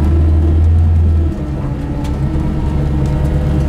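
An LS-powered 1980 Camaro with a four-speed automatic pulls away, a deep low engine rumble that is heavy at first and then settles into a steadier, slightly lighter drone, close inside the car.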